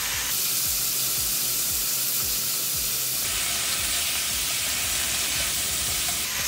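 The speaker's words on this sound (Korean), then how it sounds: "고기는 여기서 바싹 익혀주셔도 괜찮습니다" Thin slices of beef brisket frying in a pan, giving a loud, continuous sizzle and hiss with soft stirring scrapes underneath. The sizzle brightens and intensifies partway through.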